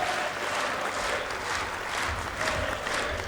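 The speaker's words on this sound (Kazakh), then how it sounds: "Бір дүбірлетіп қол шапалақтап қойыңыздар" Audience applause at a Kazakh aitys, a sung poetry duel between a young man and a young woman, rising as a dense, steady wash of clapping that holds evenly throughout with no voices over it.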